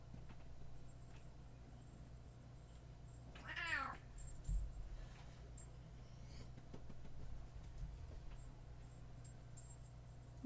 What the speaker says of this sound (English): You purr so loud.